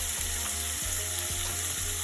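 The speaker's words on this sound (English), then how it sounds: "And now I'll add the garlic and ginger." Garlic and ginger sizzle in a pan of frying onions, a steady bright crackle of hot oil with a few soft scraping stirs.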